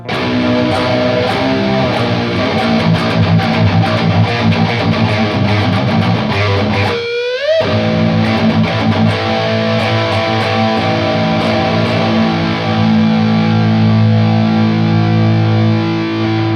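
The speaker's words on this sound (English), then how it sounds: "It's like, this is a power chord." Heavily distorted electric guitar power chords, tuned a whole step down, ring out loud and sustained. The chords change over the passage, with a brief slide and pause partway through, and no voices are heard.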